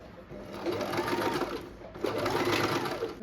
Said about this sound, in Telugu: క్లాత్ని అడ్జస్ట్ చేసుకుంటూ స్టిచ్ చేసుకోవాలి.